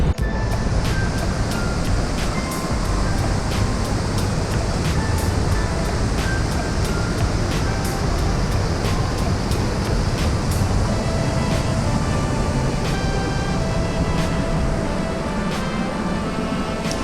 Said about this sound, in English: The water is raging out of control.